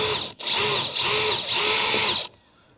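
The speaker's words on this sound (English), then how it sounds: "so we can just get the drill in and remove this" A power drill whirs in three steady bursts removing screws from an MG ZT 190 interior, each running about half a second with brief pauses between, then cuts off into quiet.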